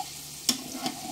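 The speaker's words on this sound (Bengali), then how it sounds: "সমস্ত আলুগুলো আমি ভেজে নেব" Potatoes seasoned with salt and turmeric fry in oil in a covered pan, giving a quiet, faint sizzle with two brief crackling bursts.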